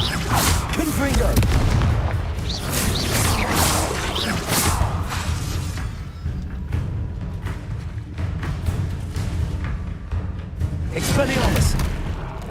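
Confringo fire spells blasting in Hogwarts Legacy, heavy booming bursts with whooshes, several repeated impacts over a dense game soundscape, with a voice speaking the spell names alongside.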